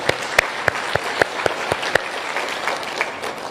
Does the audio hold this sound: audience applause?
yes